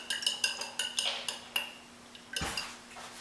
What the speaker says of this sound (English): Gotta whisk up the eggs.